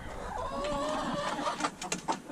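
Hens clucking inside a chicken coop during an arctic cold snap, with soft overlapping clucks and murmurs close by over a steady background hum.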